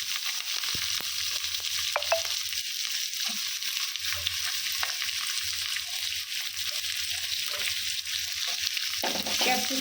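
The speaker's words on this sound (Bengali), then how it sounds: "ক্যাপসিকামটা একটু ভাজা ভাজা হবে" Chopped capsicum sizzles steadily in a pan over a low flame, with a soft, continuous crackle and a few light clinks of stirring. No voices are heard.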